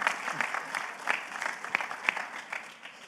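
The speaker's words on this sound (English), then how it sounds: "So maybe a round of applause for that." Audience applause at a startup stage event during a tech conference, a steady patter of many hands clapping at moderate distance, with irregular louder claps standing out and no speech over it.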